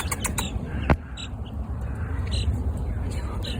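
Baby chickens outdoors give faint, scattered high peeps and chirps over a murmur of low background noise, with one brief sharp knock partway through.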